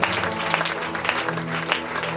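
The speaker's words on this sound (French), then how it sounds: "nous voulons te manifester notre reconnaissance par des acclamations." Church congregation applauding and acclaiming during a Sunday service, a continuous roar of many hands clapping with crowd voices mixed in, loud and sustained throughout.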